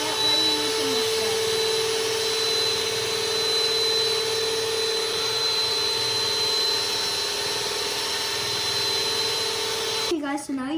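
Electric mixer at its lowest speed beating cake pop batter, a steady close motorized whine and buzz running for about ten seconds before stopping, with voices in the background.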